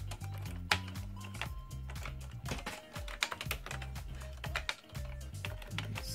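Rapid typing on the French keyboard of an Amiga computer, a close, steady clatter of uneven key taps with brief pauses, over a faint low hum.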